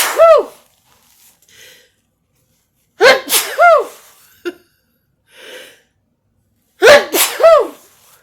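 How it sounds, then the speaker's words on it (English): Three loud, close sneezes come several seconds apart, each a sharp burst with a drawn-in breath before it, with quiet breathing and small snorts between them. "I'm gonna sneeze."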